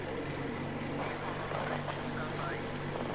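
A boat engine in the video game Metro Exodus runs as a steady, continuous low drone with a constant hum throughout, and faint voices occur under it.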